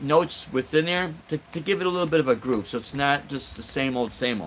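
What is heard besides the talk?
No everyday noises stand out.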